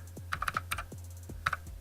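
Clicky typing on a cheap Gasky mechanical keyboard fitted with blue switches: a quick, uneven run of sharp key clicks up close, with no talking.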